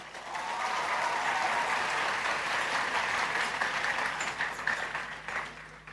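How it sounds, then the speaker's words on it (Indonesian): Loud, sustained applause from a large crowd at an Islamic boarding school event, steady clapping for several seconds that thins slightly toward the end. "Tepuk tangan untuk santri-santri kita."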